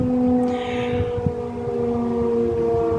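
A civil-defense air raid siren wails steadily in Ukraine, a sustained layered drone carrying from a distance over outdoor ambience, with a brief faint sweep near the start.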